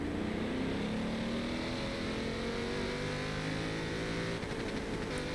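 Prototype race car engines in a Sebring 8 Hour sim race, including an SGR Mulsanne, producing a steady, loud engine drone whose pitch climbs gradually, with no talking over it.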